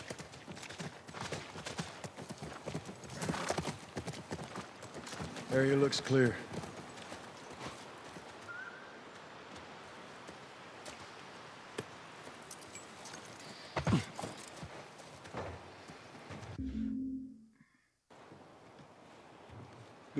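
Horse hooves clip-clop in The Last of Us Part I video game, a steady plodding rhythm near a ranch, running under conversation and game ambience with a brief jingle of tack and a soft thud near the end.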